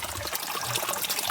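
Water from a mountain spring trickles steadily, making a continuous soft hiss and splash that sounds close and stays even, with no voices.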